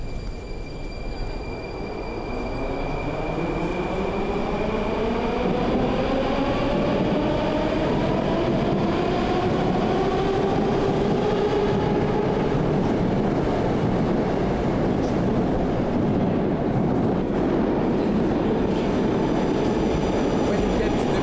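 A Moscow Metro train at Krylatskoye station on the blue line rumbles loudly and steadily as it runs, with rising and falling whining motor tones, close and continuous.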